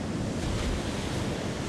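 Surf and gusting wind on the Northumberland shore, a dense steady wash of waves with wind buffeting the microphone, loud and continuous throughout.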